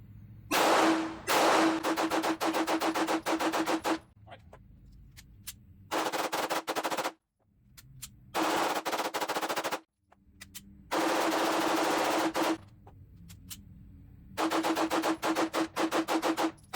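Rapid strings of loud, sharp shots from an HK VP9A1 pistol with a ported barrel at a range, fired in several fast bursts separated by short quiet gaps.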